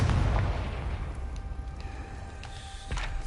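A Confringo fire spell from the video game Hogwarts Legacy bursts with a loud, rumbling boom at the start, then its low, roiling blast fades into a dull, sustained roar.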